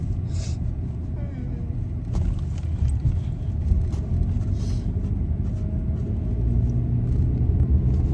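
Interior of a moving car on the road, a steady low droning rumble of tires and engine that holds level throughout, with faint higher rattles above it.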